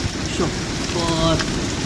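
Steady heavy rain of the season's first downpour in Baramati hisses continuously, close and loud, with a faint tonal sound briefly rising above the downpour.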